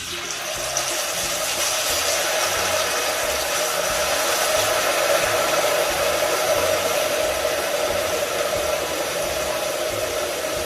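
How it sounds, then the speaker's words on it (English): Taro root (arbi) fries in hot oil, giving a steady, dense sizzling hiss that holds at an even level throughout with no talking. "when you hear these sparkling noises and you see the taro root like this in the oil"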